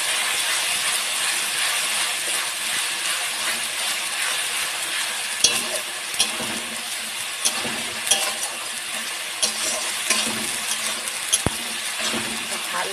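Ginger and garlic frying in a pan as a chicken dish is being cooked give off a steady bright sizzle, with sharp clicks and scrapes from the stirring utensil scattered through the second half.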